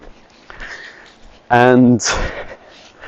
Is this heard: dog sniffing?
yes